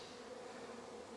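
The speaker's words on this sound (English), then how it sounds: "And then I have bees over here" A swarm of honeybees buzzes in a faint, steady hum that lasts only a moment, heard softly from nearby.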